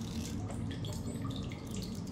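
Water running steadily from a source as a bottle is refilled in the survival game The Solus Project, a continuous close splashing and trickling wash lasting a couple of seconds, with no talking.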